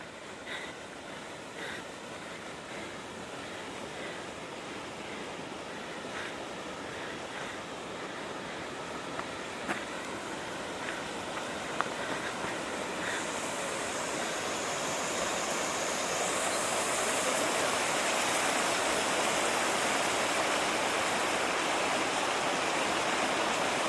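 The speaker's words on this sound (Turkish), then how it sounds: "Şelale akıyor." A waterfall in the Artvin Borçka highlands rushes in a steady, broad roar that swells slightly over time, heard outdoors with some wind and no talk.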